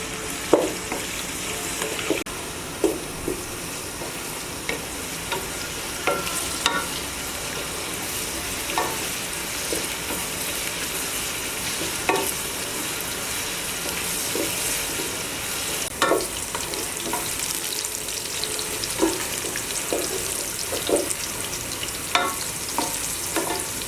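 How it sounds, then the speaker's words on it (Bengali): Chopped onions fry in hot oil until brown, a steady close sizzle broken by repeated scraping and stirring sounds, with no talk. "এগুলো আমি ব্রাউন কালার করে ভেজে নেব।"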